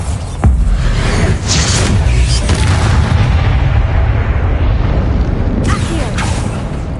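Bombarda blasting spell explosion in the Hogwarts Legacy video game: a sudden loud boom followed by a long, heavy rumbling roar that stays dense and low, with debris-like crackle near the end.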